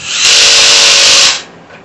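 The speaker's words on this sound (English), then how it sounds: "power tools, put the torque down a little bit" A power tool, likely a drill or driver, tightens a nut on a rolling laptop tray: one loud, steady whirring burst of about a second that starts abruptly, then cuts off and fades.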